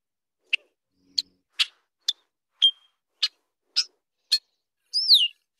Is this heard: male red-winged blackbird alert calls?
yes